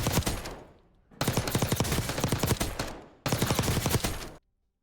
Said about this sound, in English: we're going to take this one into the